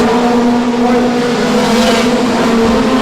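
Midget race cars at Tygerberg Raceway, a loud continuous engine drone as cars power out of a corner on a hard track, steady and close with no break.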